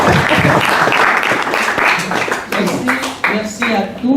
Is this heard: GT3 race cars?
no